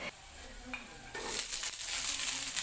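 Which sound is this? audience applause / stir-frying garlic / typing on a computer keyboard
stir-frying garlic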